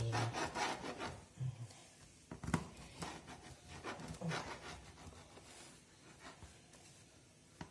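A knife saws through a freshly baked, still-hot pastry in close, rasping strokes, with uneven scraping bursts that fade into quieter rubbing.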